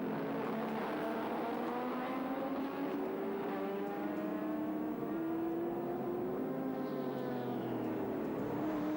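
Touring race cars lap Sandown in 1984, among them a light Mazda on soft compound tyres, their engines droning and shifting pitch in a sustained mid-distance roar with no break.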